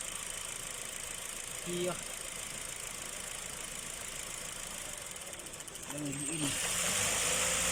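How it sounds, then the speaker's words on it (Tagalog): A 2016 Kia Cerato engine idles steadily after a misfire repair, a constant hum running throughout, with someone speaking briefly over it. "Guys, ganda na ng andar niya."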